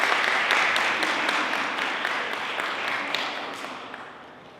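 An audience gives a round of applause as a speaker is called up to the stage at a symposium breakout session, a dense wash of clapping that swells briefly and then tapers off.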